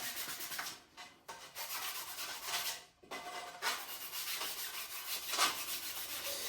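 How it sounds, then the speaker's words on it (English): Hand sanding a skiff hull with 180 grit sandpaper, a steady close scratchy rubbing in long strokes with a few brief pauses, no voices. "So give it a good sand. This is just with 180 grit."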